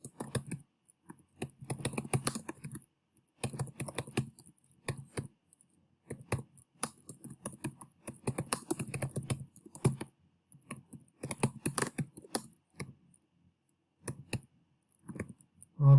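Keys on a computer keyboard clatter in quick irregular bursts, typing an address into a word processor, close and fairly quiet, with brief pauses between runs and no talking.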